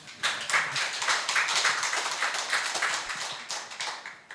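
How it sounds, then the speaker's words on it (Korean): An audience at a talk show claps in a steady round of applause that lasts several seconds and then tapers off, with no speech over it. "박수 치시려면 좀 크게 치시죠."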